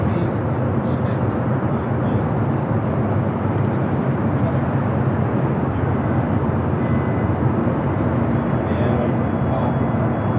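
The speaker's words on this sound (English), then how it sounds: "Flight lined up, ready to go. It's a flight heading to Salt Lake City, an A321neo Delta Airlines flight" Delta Air Lines Airbus A321neo bound for Salt Lake City taking off from Los Angeles International Airport, a loud, sustained broadband jet engine roar at constant level from start to finish.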